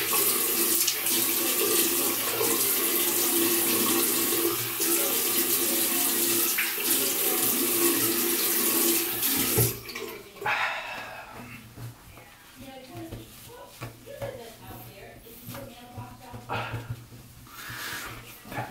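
Water runs steadily from a tap into a sink while someone rinses their face after a shave, a loud continuous gush that shuts off partway through, followed by quieter dripping and small movements.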